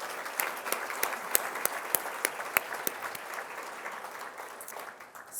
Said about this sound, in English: I think we should give her another round of applause.